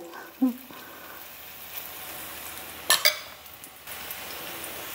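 Chop cutlets fry in a pan with a faint, steady sizzle. A couple of sharp clinks of utensils or cookware break through, and speech is faintly present.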